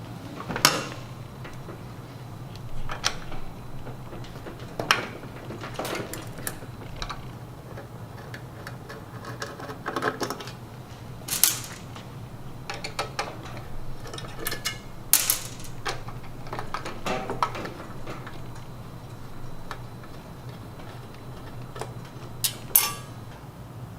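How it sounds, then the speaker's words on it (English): Four 5/16-inch screws being removed from the top platen of a Star two-sided grill, giving scattered sharp metallic clicks and light ticks at close range over a steady low hum, with no talking. "remove the 4 5/16" screws from the top platen"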